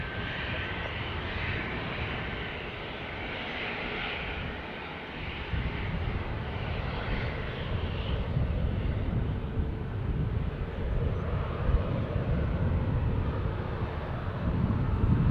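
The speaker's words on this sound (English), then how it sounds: "737 from Amsterdam" A KLM Boeing 737 arriving from Amsterdam at Dublin Airport roars as a steady, loud jet engine drone for the whole stretch, with broadband rumble and a slight swell midway.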